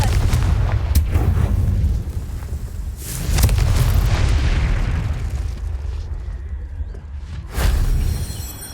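Confringo fire spell blasts in the wizarding video game Hogwarts Legacy: loud booming explosions that burst near the start, around three seconds and again near the end, each with a rumbling tail, and no talking.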